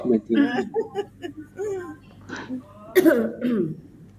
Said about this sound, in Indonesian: Masih batuk-batuk, Bu.